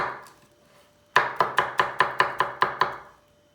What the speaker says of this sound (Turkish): Sarımsak büyükse bir dişle doğrasanız yeterli.